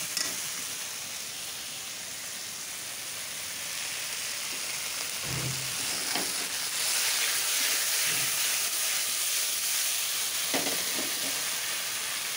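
A fish shallow-fries in a little oil with a continuous hiss and crackle. A few soft knocks of a utensil can be heard against the pan, close by and with no speech.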